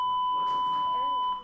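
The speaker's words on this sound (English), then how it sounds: "Disregard that bell, because they set it for a 5-period day yesterday" Classroom school bell sounding as a steady electronic tone lasting over a second, with a teacher's voice talking over it.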